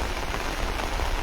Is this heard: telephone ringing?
no